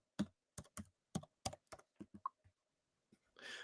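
Typing on a computer keyboard during a live broadcast: a dozen or so crisp, close key clicks in uneven bursts, a brief pause, then a short rustling burst at the end, with no talk.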